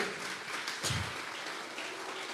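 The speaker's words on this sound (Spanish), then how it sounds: "Vamos a regalarle ofrenda de palmas al Dios de la gloria" During a Tuesday Bible study service, the congregation claps as an offering to God. The applause is soft and steady, as if heard from a distance, with one brief louder bump early on.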